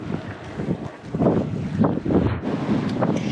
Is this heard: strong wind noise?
yes